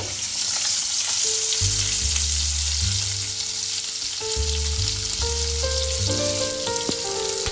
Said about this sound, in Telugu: గ్రీన్ చిల్లీ ఆనియన్స్ రెండు ఒకే ఒకేసారి వేసి మనం కొంచెం లైట్గా డీప్ ఫ్రై చేసుకోవాలండి వీటిని